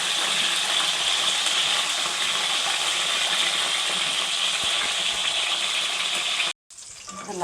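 Stuffed brinjal masala sizzles in hot oil in a pan, a steady, loud hiss that runs unbroken before a brief cut to quieter frying.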